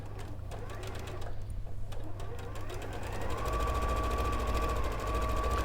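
A sewing machine runs a quarter-inch seam along a raw fabric edge on bunting, its needle chattering in a fast steady whir that speeds up and grows louder midway, close and continuous.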